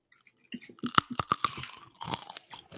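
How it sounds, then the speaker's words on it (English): Haw Flakes candy is bitten and crunched close up, giving a burst of sharp, crisp cracks followed by rapid chewing crunches. "It's like that was a solid crunch."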